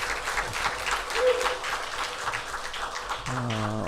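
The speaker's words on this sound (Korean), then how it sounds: "우리 감사의 박수, 격려의 박수 하겠습니다" Congregation applause for the choir at a university chapel service, a steady wash of many hands clapping throughout, with a held musical tone entering near the end.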